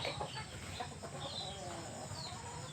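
Farm chickens cluck softly and continuously nearby, a faint low chatter of several birds with no one speaking.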